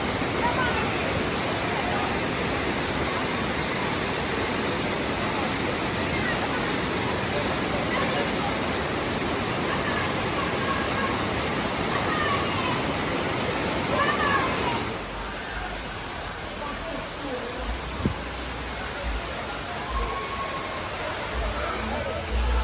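Dunn's River Falls waterfall in Jamaica pours as a steady, dense roar of rushing water close by, loud and unbroken for most of the stretch, then dropping somewhat quieter near the end with faint voices around.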